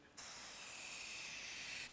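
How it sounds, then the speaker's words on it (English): A can of quick-drying Polyfilla foam filler sprays in one steady, continuous hissing burst lasting almost two seconds, close and loud, with no talking over it. "If I spray some here, I can show you."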